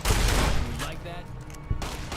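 A loud burst of rapid gunfire in Fallout: New Vegas rattles up close, then cuts off briefly before another sharp shot at the end.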